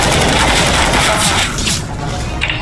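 Counter-Strike: Global Offensive gunfire roars in a dense, loud volley of overlapping blasts, then eases into a lighter crackle of scattered shots.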